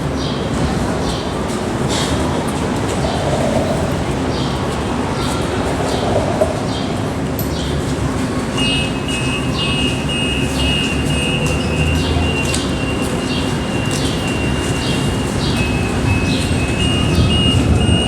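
A commuter train stands at a busy downtown Calgary platform during rush hour in heavy rain, giving a steady rumble and hiss with a high electronic tone joining partway through, set against a crowd and rain noise.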